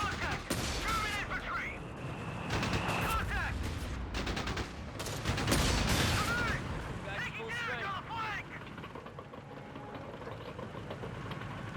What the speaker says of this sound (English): it's allowing all 3 rifle models to fire there first off